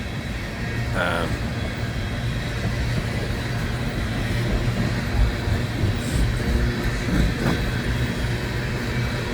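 An ethanol unit freight train rolls through a rail yard, a steady broad rumble holding throughout with faint metallic squeals, while someone talks over it.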